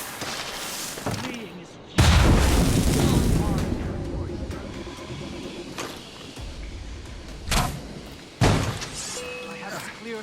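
Ship cannons fire in Assassin's Creed Rogue Remastered, with a heavy broadband boom near the start, a long rumbling decay, and two more sharp blasts later, under game character dialogue.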